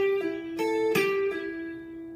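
An electric guitar plays a short pentatonic blues lick of a few plucked notes that ring and slowly fade, close and clear with no talking.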